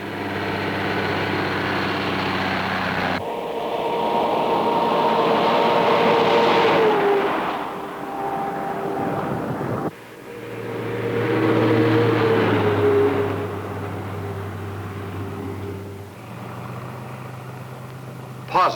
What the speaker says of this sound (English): A truck loads and leaves this plant approximately every 40 minutes